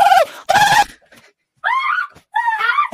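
A human voice imitates a squirrel with several short, high-pitched squeaky chirps and wavering calls, loud and close, in quick bursts separated by brief pauses.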